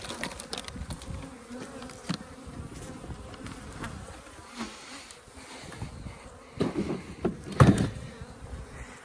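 Angry honey bees pouring out of a winter hive, a dense close buzzing swarm with individual insects zipping past, plus a few knocks and a louder burst of activity near the end, no talking.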